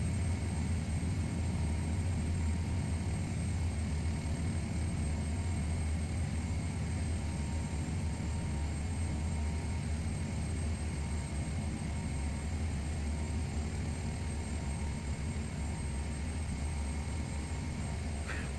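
An Embraer 120 turboprop in a flight simulator, taxiing with a steady, dense engine drone and propeller hum that holds constant and loud the whole time, alone without talk.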